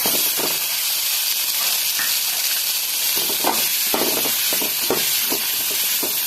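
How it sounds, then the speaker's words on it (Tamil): Chopped tomatoes sauté in a spoonful of hot oil in a pan, giving a steady close sizzle and hiss with occasional scraping stirs and soft pops throughout. "இப்போ 1 ஸ்பூன் எண்ணெய் ஊற்றிட்டு கட் பண்ணி வச்ச தக்காளியை சேர்த்து வதக்கலாம்."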